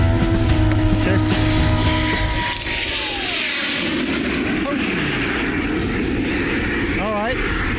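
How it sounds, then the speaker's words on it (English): A fighter jet passes by at an outdoor photo shoot, a loud broadband engine roar that fills the whole clip, holding steady and shifting slightly in pitch as it moves past. "This jet is coming in right now."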